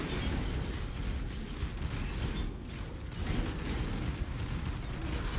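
Fiery blasts and exploding mines from a giant fireball spell in Path of Exile, a dense continuous rumble of bursts and crackling impacts, loud and sustained throughout with brief dips.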